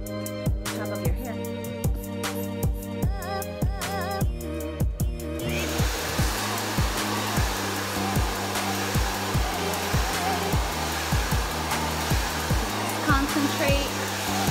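A hair dryer blows continuously while hair is blow-dried at home, a steady loud whoosh running throughout under a faint rhythmic musical beat.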